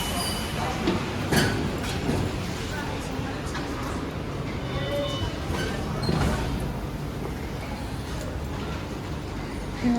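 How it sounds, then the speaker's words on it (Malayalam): Busy metro station near the Eiffel Tower in Paris, with a steady rumble of rail traffic and crowd noise throughout, brief squeals and clatter rising now and then, and people talking nearby. "ഈഫൽ ടവറിൻ്റെ അടുത്തുള്ള മെട്രോ സ്റ്റേഷനിൽ എത്തിയിരിക്കുകയാണ്."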